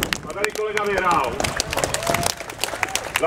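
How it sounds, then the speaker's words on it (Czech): Outdoor crowd at a spring cycling ride event in Brno claps for a race winner, a dense patter of many hands at moderate distance, with a voice talking over it. "Zatleskáme."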